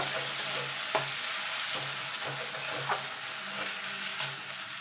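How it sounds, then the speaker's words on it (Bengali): Ginger garlic paste sautéing in a pan for a chicken kosha curry, a continuous close sizzle broken by soft scrapes and taps of a spatula stirring. "আদা রসুনের কাঁচা গন্ধটা যাওয়া পর্যন্ত এটাকে একটুখানি কষিয়ে নেব"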